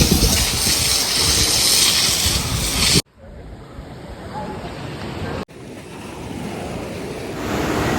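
Surf rolls onto Khavane beach on the Konkan coast, a loud, continuous wash of waves buffeted by wind noise, with two abrupt cuts where the roar drops and then builds again.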